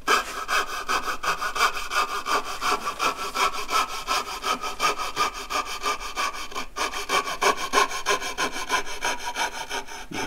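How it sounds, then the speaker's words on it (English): A hand saw cuts through wood for a dovetail joint, giving a steady, close rhythm of rasping back-and-forth strokes that continues alone for the whole stretch. "So you've got to eventually bring your saw around like that to finish this cut without going into the back side of the pin."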